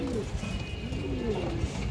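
Pigeons coo in low, soft, wavering calls, near and fairly quiet, alongside a large Bagha female pigeon.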